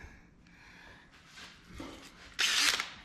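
Half-inch thick foam being shaved down for a Peterbilt truck wood floor install, heard as faint scraping and rustling that builds to a louder, harsh burst of shaving near the end.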